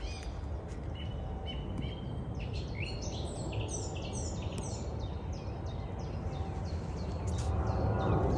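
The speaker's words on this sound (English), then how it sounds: "Listen to the birds sing." Birds sing in a spring garden, with repeated bright chirps and short warbling phrases coming from a moderate distance over a low, steady outdoor background rumble.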